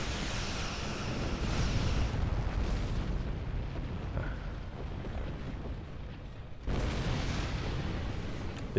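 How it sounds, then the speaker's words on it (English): A starship explodes in the Star Trek Online space game, a sustained rumbling blast that swells, dips and surges again near the end, loud and unbroken, with no talk over it. "The explosion would have definitely killed me."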